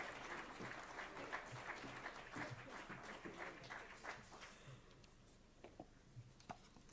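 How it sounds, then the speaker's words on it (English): An audience at a global summit in Germany applauds, a sustained wash of clapping that gradually thins into a few scattered claps. "huge round of applause for Nicole Hofmeister."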